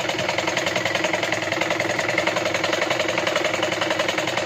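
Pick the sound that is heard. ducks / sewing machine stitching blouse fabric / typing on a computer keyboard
sewing machine stitching blouse fabric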